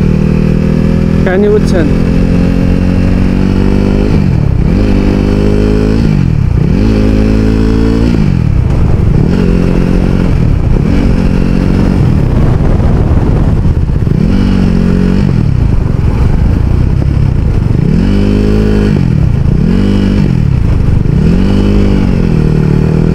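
Kawasaki Ninja ZX 800cc superbike on a road, its engine loud and close as it is blipped again and again in a steady series of sharp revs, with a short spoken remark early on.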